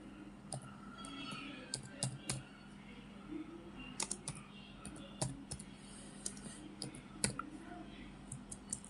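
Computer keyboard keys clack in short irregular bursts as entries are typed and saved in Tally ERP 9 accounting software, crisp close clicks over a quiet room with soft faint talk.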